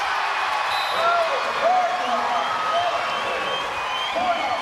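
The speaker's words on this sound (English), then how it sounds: "Crowd's loving it." Arena crowd at a professional women's volleyball match between LOVB Nebraska and LOVB Austin, a steady roar of cheering and chatter filling the hall, with a voice calling out faintly over the broad noise.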